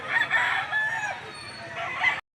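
Rooster crowing at a chicken market in Lipa, Batangas, a loud, close call that swells and holds for about two seconds before cutting off, with faint clucking around it.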